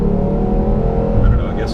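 Engine of a 2013 Ford Edge Sport accelerating, a loud, dense, continuous drone with rising whir heard from inside the car, lasting under two seconds.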